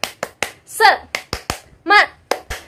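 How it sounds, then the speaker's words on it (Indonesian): A teacher leads the "tepuk semangat" classroom clapping chant, sharp rhythmic claps in a patterned sequence alternating with short sung-out words, close and clear. "Coba, Tepuk semangat."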